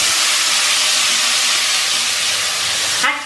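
Noodles hit a hot pan and sizzle hard, a loud bright steady hiss close by that cuts off sharply near the end, with no talking.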